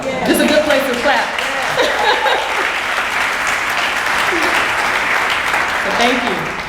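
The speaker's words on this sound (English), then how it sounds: "This is a good place to clap" An audience at an annual small-business award ceremony gives a steady, full round of applause lasting several seconds, with a few chuckles and voices mixed into the crowd.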